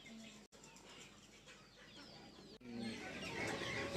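Chickens cluck and flap amid the noisy bustle of a Balinese market, the birds close by with the crowd din swelling louder partway through.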